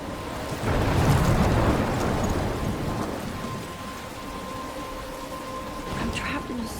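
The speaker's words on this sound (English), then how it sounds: "I'm trapped in a storm?" A storm in the video game Life Is Strange brings steady heavy rain hissing throughout, with a deep rolling thunder rumble swelling early on, loud and close, with a few faint voice-like sounds toward the end.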